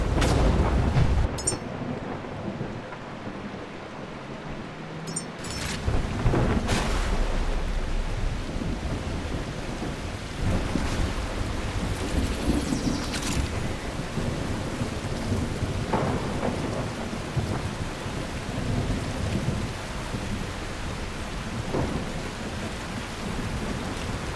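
Thunderstorm in the video game The Last Caretaker: steady heavy rain with rolling thunder rumbling throughout, close and loud, with no talk.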